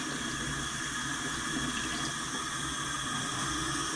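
Water pours steadily from a shower head in a home bathroom, a continuous close hiss and splash that holds even for the full few seconds with no talking.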